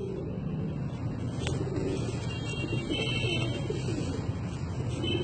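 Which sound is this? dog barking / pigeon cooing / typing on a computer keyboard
pigeon cooing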